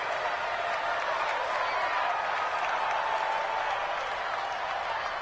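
Crowd noise in an American football video game on PS4, with a Jaguars drive under way: a steady, dense wash of cheering and applause that neither rises nor falls, with no voices standing out.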